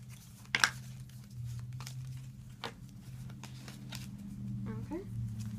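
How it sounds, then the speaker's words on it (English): Playing cards shuffled at a table during a Mission Red Planet board game, with a couple of brief papery riffle bursts against a quiet room and faint talk. "Shuffle up his cards here."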